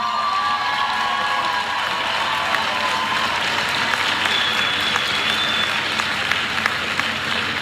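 A graduation audience at the UWI Mona ceremony applauds first-generation graduates, a steady, dense wash of clapping that fills the hall throughout, with scattered whoops and a few faint voices mixed in.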